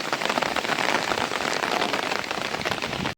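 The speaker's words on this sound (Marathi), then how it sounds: "आता नाही पाऊस थांबत आहे" Steady rain pattering on a farm field in a rural village, a dense continuous hiss of drops at close range with no talking, cutting off abruptly at the very end.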